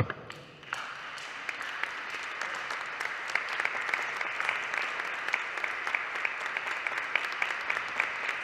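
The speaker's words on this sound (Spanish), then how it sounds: "permíteme comenzar por aplaudirles a ustedes" Audience at a book presentation at a book fair in Mexico City applauding steadily after a quieter opening, a sustained spread of many hands with occasional sharper claps near the front.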